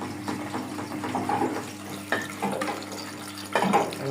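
Water rushes steadily into a washing machine drum as it fills for the final rinse, a continuous hiss and gurgle with a few louder surges, close by and without talk.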